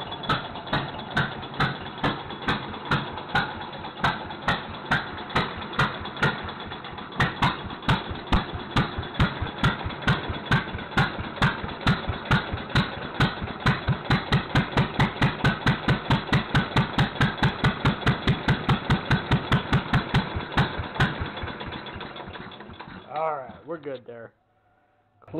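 An old engine on a restored pump display starts up and runs with a regular chugging beat that quickens and grows steadier, loud and close, then cuts off near the end.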